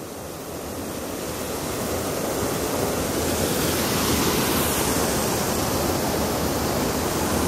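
Spring water flowing down a hillside at Iargo Springs, a steady broadband rush that swells slightly and holds loud and continuous, with no talking.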